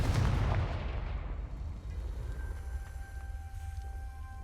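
A Confringo fire spell bursts in Hogwarts Legacy, a loud booming explosion up front that rolls off into a long fading rumble with a faint tonal hum lingering behind.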